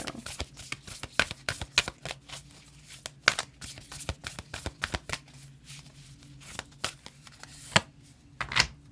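Tarot cards from an oracle deck are shuffled close up in quick riffling bursts, flicks and slaps. A steady low hum runs underneath and nobody speaks.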